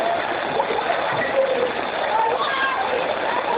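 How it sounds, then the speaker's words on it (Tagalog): Floodwater rushes and splashes through a flooded subdivision in Imus, Cavite during a typhoon, a steady broadband wash of flowing water heard close and continuous, with voices talking over it. "Umagos po ang tubig"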